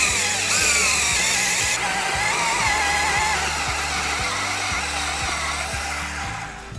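An electric drill spins a Power Planter auger down into garden soil to dig a watering hole for a tree, a steady loud whine with a faint rhythmic thumping that eases slightly toward the end.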